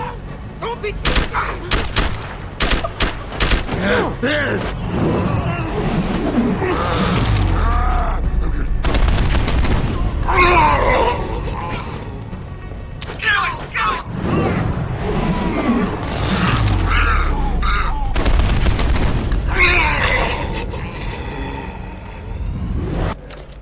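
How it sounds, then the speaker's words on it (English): Typhoon missile launcher explosions in Deus Ex: Human Revolution: a rapid run of heavy booms and gunfire-like cracks. Loud blasts come in dense clusters, with brief lulls between them. "you could take on an entire room filled with guys with your Typhoon missile launcher"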